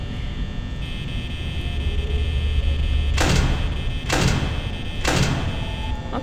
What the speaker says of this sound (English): The door's going down again.